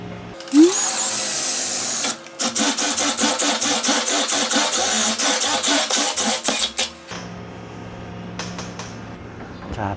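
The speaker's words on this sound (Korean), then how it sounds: "이렇게 해서 자리를 잡아주면 어, 드릴 작업할 때 미끄러지지가 않습니다" A power drill bores holes in a wall to mount an air curtain, running loud and steady for several seconds after a brief start, then stopping abruptly with quieter background noise afterward.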